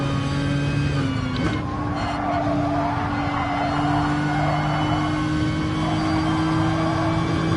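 Tyres squeal steadily and loudly on a race car in Gran Turismo Sport, a sustained high whine over a constant engine drone that runs for the whole stretch with no talking.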